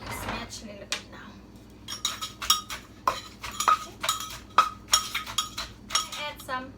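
Homemade spicy food is smashed in a bowl with a utensil, making repeated clinking, knocking strikes in an irregular rhythm, close up, with a voice speaking faintly in between.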